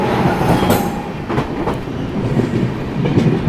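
Marudhar Express (14854) passenger train rolling into Unnao Junction, a steady loud rumble of wheels on rails with clickety-clack joints and brief higher squeals, heard close from on board with no talking.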